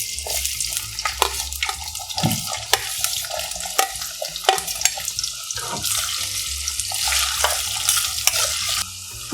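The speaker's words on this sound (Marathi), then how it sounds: "आता यामध्ये आपण बटाट्याचे काप घालूया" Potato slices sizzle and crackle in hot ghee with cumin seeds in a kadai, with scraping and stirring clatter on top of a steady frying hiss.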